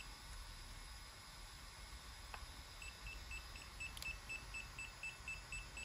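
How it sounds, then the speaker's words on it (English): A faint series of short, evenly spaced electronic beeps from DJI FPV drone Goggles V2 during pairing, over a low background hiss. "You should hear beep."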